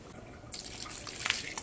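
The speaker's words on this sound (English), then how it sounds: "So to the basin here, I'm gonna add a little bit of water to get all the seasoning out." Water poured into a kitchen basin to rinse seasoning out while cooking fish broth, a soft splashing trickle starting partway through and continuing steadily, close and fairly quiet.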